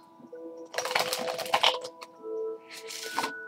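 An Oracle card deck is shuffled by hand, producing quick riffling, rustling and clicking bursts, close and fairly soft, with a low hum underneath.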